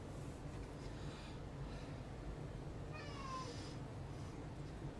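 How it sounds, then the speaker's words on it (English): A pet cat named Bud lets out a short, faint meow partway through, against a steady low background hum, with no talk. "Meow."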